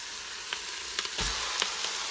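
Ground beef sizzling in a pan where garlic and onion are already sautéing, a steady moderate frying hiss with a few soft clicks and a low thump as the meat lands.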